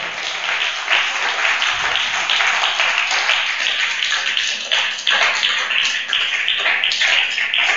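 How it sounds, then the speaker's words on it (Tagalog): A church congregation claps steadily and fairly loudly, a dense sustained applause filling the whole stretch without pauses. "Nahihinaan ako sa palakpak."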